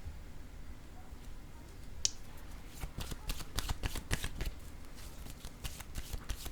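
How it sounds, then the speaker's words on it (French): Tarot cards being handled and laid down on a table, a run of quick, soft papery snaps and flicks, close and fairly quiet, with a bright tap partway through. "je vais déposer une autre carte ici"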